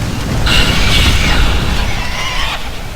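Rapid explosions from a hunter's Barrage ability in World of Warcraft: Warlords of Draenor, a loud, continuous low rumble of overlapping booms with a whining, shrill tonal layer rising over the middle stretch, then fading slightly toward the end, with no voices.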